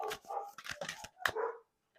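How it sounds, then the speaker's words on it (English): Several dogs bark in short, sharp bursts, close and fairly loud, with a brief yip among them, then the sound falls silent. "Sorry about my dogs."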